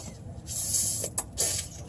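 A spray bottle is squeezed during stock exhaust removal on a Mk7 GTI, giving two brief, close hissing bursts over a low background hum.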